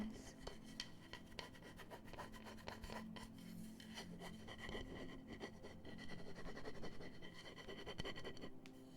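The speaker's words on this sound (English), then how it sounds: "Scratching Plank's back. Giving him head scratches." Fingernails scratch and rub across a wooden plank in continuous soft, rasping strokes, close up and very quiet in a calm ASMR setting.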